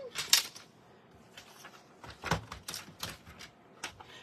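A paper trimmer cutting a cardstock panel for Stampin' Up! card making, with a sharp slicing swipe followed by irregular clicks and scraping of the blade and paper, close and moderately quiet.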